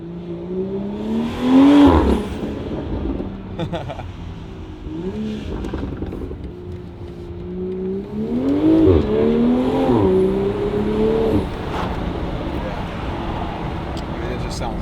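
A BMW X4 M40i with an aftermarket Valvetronic Designs exhaust revs loudly nearby, rising and falling through several blips with crackling pops and burbles on the overrun, while someone talks over it.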